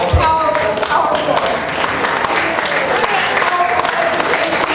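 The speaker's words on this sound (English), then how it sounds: "I want to give another round of applause to Chairman Omali Yeshitela for that powerful" A crowd at an Uhuru Movement gathering applauds after a presentation by Chairman Omali Yeshitela: sustained, fairly loud clapping lasting the whole stretch, with some voices and cheers mixed in.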